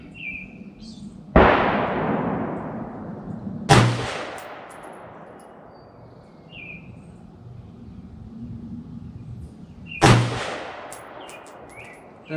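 Three sharp, loud rifle shots from an FN AR-15 firing Winchester 5.56 62-grain green-tip rounds at an outdoor range, spaced several seconds apart. Each crack rings out with a long decaying echo, and faint beeps sound between shots.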